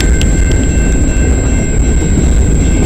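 Freight train passing on the Dundas Sub in London, Ontario, bound from Memphis toward Toronto: a steady, loud rumble of rolling cars with a faint high tonal whine running throughout.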